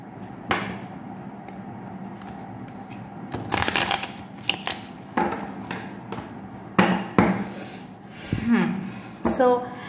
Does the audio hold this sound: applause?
no